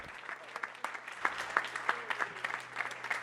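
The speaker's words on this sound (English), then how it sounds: "Can I get a round of applause for these guys?" A small audience claps for musicians, with sparse, uneven individual claps close by, fairly quiet, over a low steady hum.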